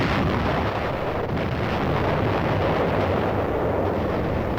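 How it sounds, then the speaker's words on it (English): Naval ships of a fleet firing their guns point blank at an island at dawn, a dense, continuous roar of distant barrage with no clear separate shots, loud and unbroken for the whole stretch. "Ships of the UN fleet fire point blank at the island."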